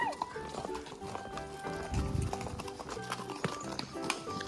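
A horse walks at an amusement park, its hooves clip-clopping in a steady, fairly close rhythm beneath a busy background with faint voices.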